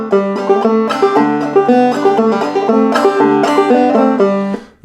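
Hangman's Reel, third part, played on a plucked string instrument without a hammered-on downbeat: a steady, even run of bright notes, close and clear, with no voice.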